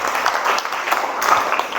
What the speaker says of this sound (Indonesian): Kasih tepuk tangan buat Nivari.